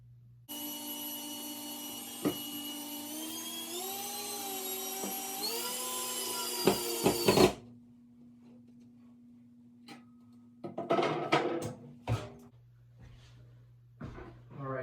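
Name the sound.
driving screws to mount a floating shelf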